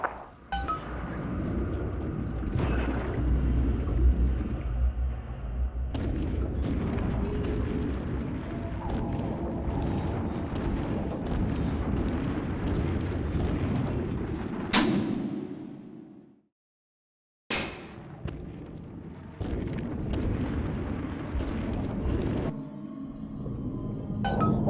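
Bombs explode in BioShock 2 Remastered amid a continuous rumbling roar and clattering debris, with several sharp blasts punching through, a sudden drop to silence, then the roar resuming.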